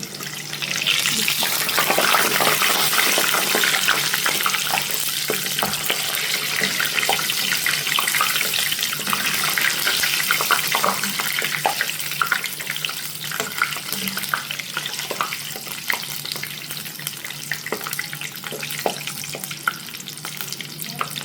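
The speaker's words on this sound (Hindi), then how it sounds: "अभी एक एक करके हम इसमें अपनी कचौरी डालते हैं इसमें। और इसको मीडियम आंच पे हम फ्राई करेंगे।" Chicken kachori deep frying one by one in hot oil over medium heat, a steady dense sizzle and crackle with small pops running continuously at close range, with no speech.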